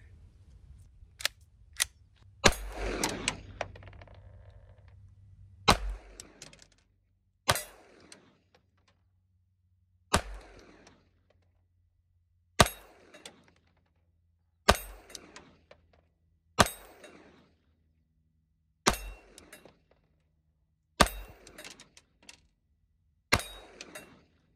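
A Mauser M20 .22 caliber rifle fires at an AR500 steel target about ten yards away. The sharp, light cracks come about a dozen times, spaced a couple of seconds apart, each followed by a quick metallic ring, with quiet between shots.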